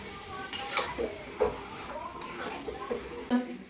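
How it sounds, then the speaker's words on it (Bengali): Chicken being stir-fried with salt in a pan on a winter night, with a spatula scraping and clinking in irregular strokes over a low sizzle, close and moderately loud. "এবার স্বাদ মতো লবণ দিয়ে দেবো। ভালো করে কষিয়ে নেবো।"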